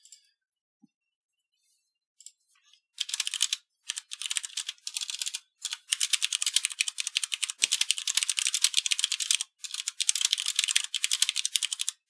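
Loud, rapid typing on a computer keyboard during a Magic: The Gathering match, in sustained bursts of clattering keystrokes with short pauses, close and alone without talk.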